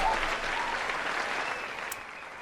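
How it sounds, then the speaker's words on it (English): A crowd at a live talk show claps in a dense, steady wash of applause that fades slightly over a couple of seconds, with no voices on top. "the crowd got a little loud."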